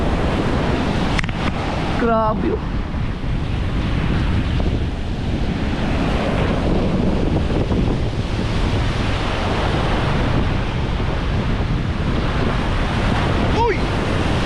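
Large, fast-flowing river in flood with surging waves and gusting wind, a loud continuous rush that fills the whole scene, with a few brief exclamations from people nearby.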